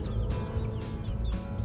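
Bald chickens cluck nearby in a steady muddle of short, close calls over a dense, noisy farmyard background.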